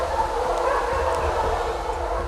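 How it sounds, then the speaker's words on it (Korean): Hunting dogs bark during a wild boar hunt in the mountains, yapping and baying at a distance over a constant background hum. "사냥개 짖는 소리가 점점 가까워집니다."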